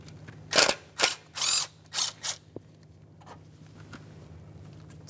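A ratchet loosens the single 10 mm mounting bolt of an ignition coil on a 2012-2015 Honda Civic, with several loud, close clicking bursts followed by quieter, fainter ticks.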